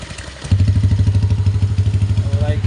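A motorcycle fitted with a bullet pipe exhaust idles close by, its engine settling into a loud, steady low putter with even pulsing beats after a quieter start.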